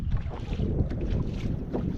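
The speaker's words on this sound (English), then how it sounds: "It's real windy right now." Strong gusty wind buffets a small fishing boat on choppy water in a bayou, a loud rough roar of wind noise with splashing underneath.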